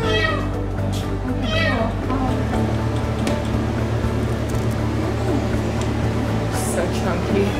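A kitten found under a car's hood meows several times in quick high-pitched cries early on, close by, over a constant low hum and background noise.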